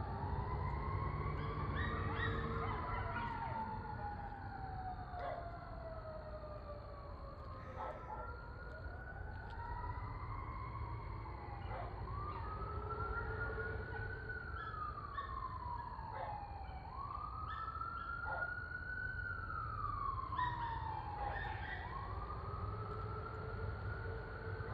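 Sirens wail in rising and falling sweeps, layered and fairly distant, continuing for a long stretch over a steady low background rumble.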